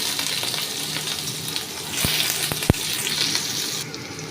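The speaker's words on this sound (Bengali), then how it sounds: "এরপর আমি দিয়ে দিচ্ছি কুচিয়ে রাখা পেঁয়াজ।" Chopped onions dropped into hot oil with dried red chilli and tempering spices over lowered gas, a steady close sizzle with a few sharp knocks of a spoon against the pan.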